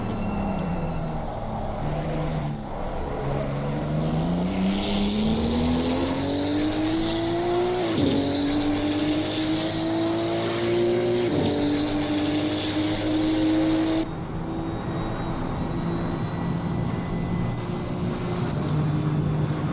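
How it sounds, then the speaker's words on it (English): Racing car engines at Monza in a racing video game roar continuously, revving and shifting pitch upward in steps as gears change, loud and sustained with no talking. "Shall we just enjoy some of the engine sounds for a moment?"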